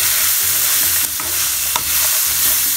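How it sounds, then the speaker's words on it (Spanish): Frozen mixed vegetables being stirred into rice in a pan, with a steady frying hiss and a few sharp scrapes of the spoon against the pan, close and continuous with no talking. "vamos a mezclar nuestras verduritas"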